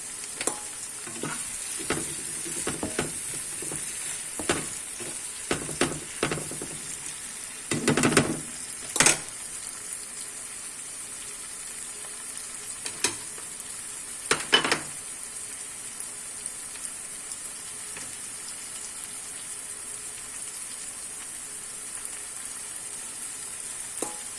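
Frozen corn frying in a pan for corn fried rice, a steady close hiss of sizzling oil broken by scattered stirring scrapes and clinks, with a louder cluster of stirring strokes midway and no voices.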